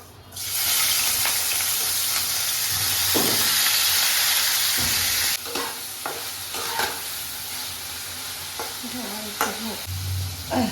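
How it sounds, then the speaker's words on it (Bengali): Prawns drop into hot mustard oil with a loud, dense sizzle that holds steady for several seconds, then eases into quieter crackling broken by scraping stirs of a utensil in the pan. "আমি এবার সর্ষে তেল দিচ্ছি তেল গরম হয়ে গেছে চিংড়ি মাছগুলো দিয়ে দিচ্ছি"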